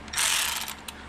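A wrench ratchets repeatedly as bolts are tightened on an SRT steering wheel being installed in a car, a close, brisk burst of clicking with no voices.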